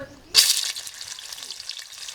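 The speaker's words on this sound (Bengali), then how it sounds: "মাছগুলো ভাজা হচ্ছে এখন।" Koi fish marinated in turmeric and chili drop into hot oil in a wok over a clay stove, setting off a sudden loud sizzle that settles into a steady, close frying hiss.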